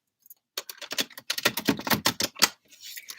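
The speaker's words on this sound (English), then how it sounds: "I'll give the card a good shuffle, and I'll keep shuffling the cards" Tarot cards being shuffled by hand, a quick run of close, crisp riffling and slapping bursts with brief gaps, no voices.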